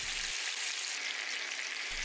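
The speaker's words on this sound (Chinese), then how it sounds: "将两个面都煎得有点焦黄，一共是煎了3-4分钟" Chicken thighs pan-frying for braised soy and honey chicken, a dense, even sizzle like light rain, fairly faint and steady, no speech.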